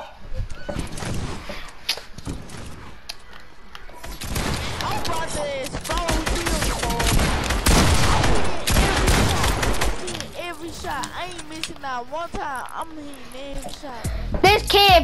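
Rapid bursts of gunfire in a Fortnite match, loud volleys and shots repeating through most of the stretch, with excited talking over the top.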